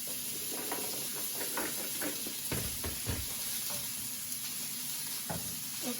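Vegetables for ratatouille fry and get stirred in a pan, with a constant loud hiss and scattered scraping knocks from the utensil across the pan.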